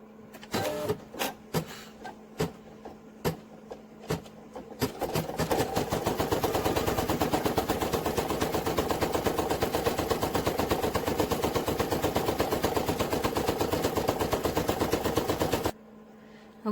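An embroidery machine sewing a placement stitch on a hooded towel: a few separate mechanical clacks, then a loud steady rapid needle chatter that runs without a break for about ten seconds and stops abruptly.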